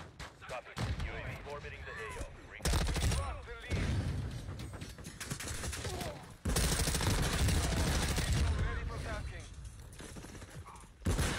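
Bursts of heavy video game gunfire, loud and repeated, broken by short gaps, with a voice talking over parts of it.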